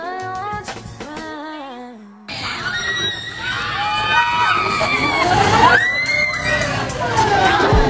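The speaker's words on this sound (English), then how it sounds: "They're screaming." Riders shriek and scream on an amusement park ride in Moscow, a loud crowd of high voices rising and falling for several seconds after a short stretch of music, with some talk mixed in.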